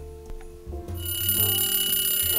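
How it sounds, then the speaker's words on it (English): A timer alarm rings in a sustained, loud electronic tone that starts abruptly and continues steadily to the end, following some brief clicks and thumps. "The timer is finished."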